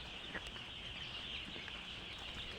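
Faint peeping of young broiler chicks scattered across a farm house, high thin calls repeating over a low background hum, distant and soft with no talking.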